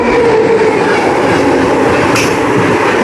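A Sapthagiri Express passenger train rolls along the rails, a loud, steady rumble with clattering wheels heard from on board and a brief sharp squeal partway through.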